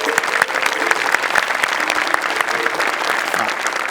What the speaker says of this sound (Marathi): एकदा जोरदार टाळ्या.